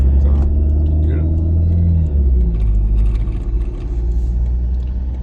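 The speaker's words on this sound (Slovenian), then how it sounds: "lahko slišijo motorje, avtomobile, pa seveda avtobuse, ki to dovozijo mimo" Road traffic in Ljubljana, with cars, motorcycles and buses passing: a steady, loud low engine rumble that swells and fades as vehicles go by, with a voice speaking over it.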